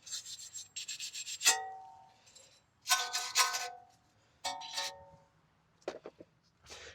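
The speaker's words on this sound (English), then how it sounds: "So I always start off with just a wire brush just to get off any bulk," A wire brush scrubs rust and corrosion off the front brake caliper bracket of a 2018 Honda CR-V in bursts of harsh, bristly scraping strokes. Quiet gaps separate the bursts, and a few metallic knocks mark where the brush hits the bracket.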